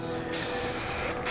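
Rust-Oleum spray paint hisses from an aerosol can onto an old Giant mountain bike, a steady close spray lasting over a second with a brief gap near the start and a renewed burst at the end.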